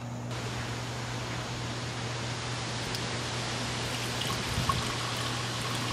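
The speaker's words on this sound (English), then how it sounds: "And now I'm going to decant this, or pour this into" Iced yerba mate tea (tereré) is poured from a French press into a pitcher: a steady, continuous liquid rush over a low background hum, with a slight splash near the end.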